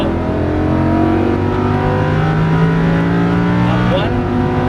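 A Lamborghini Huracan LP610-4 pulls hard on a racing track, its engine note rising loud and close under throttle with a brief shift near the end, while an instructor speaks over the roar.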